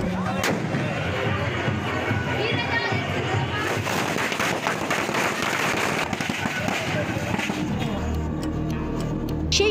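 Fireworks and firecrackers set off during an election victory procession in Santipur crack and boom in rapid, dense volleys. Close and loud, they run continuously with voices audible beneath.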